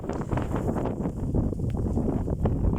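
Very strong wind buffets across an open field in August, a continuous loud roaring rush with gusty swells and rumbling microphone buffeting throughout, no voices.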